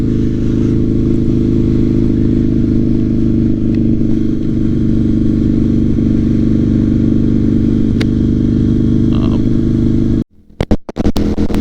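Harley-Davidson V-Rod motorcycle cruising on a highway, a loud, steady engine drone with heavy wind roar heard from the rider's position, cutting out near the end into brief clattering knocks.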